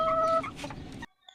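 A hen on a home farm clucking just after laying an egg, a short burst of close, fairly loud clucks that cuts off abruptly.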